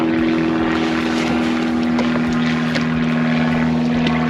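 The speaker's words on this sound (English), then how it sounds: "Planes are going over again. There's been loads of planes recently." Propeller aircraft passes overhead above a large fishing lake, its steady droning engine tone loud and continuous throughout, with no talking.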